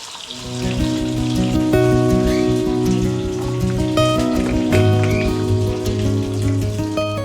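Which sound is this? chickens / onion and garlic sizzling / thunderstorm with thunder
onion and garlic sizzling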